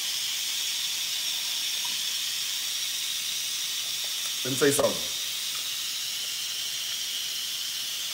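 A pressure cooker holding smoked turkey lets out a steady, loud hiss of escaping steam throughout, with a brief clattering knock midway and someone speaking over it.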